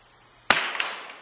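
A CZ 455 Thumbhole .22LR rifle fires a single sharp, close shot on a shooting range's firing line, the crack followed by a short ringing decay and faint echoes.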